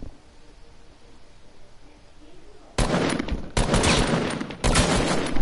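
Video game gunfire in long rattling automatic bursts, loud and close, kicking in after a quieter stretch of low background noise and continuing in repeated sprays.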